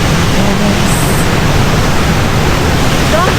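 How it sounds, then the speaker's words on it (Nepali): Shiraito Falls in Japan, a loud steady roar of falling water that fills the scene as a dense, unbroken wash of noise, with faint voices beneath it. "यस्तो राम्रो झरना"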